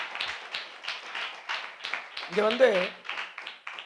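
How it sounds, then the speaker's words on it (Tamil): A church congregation claps hands in a steady, quick rhythm at moderate loudness, while a voice speaks over the clapping. "நல்ல 2 கைகளை தட்டி ஆண்டவருக்கு நன்றி சொல்லுங்க"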